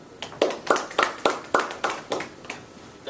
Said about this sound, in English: can we please get a round of applause for our speaker, Mr. ElliottR, and his presentation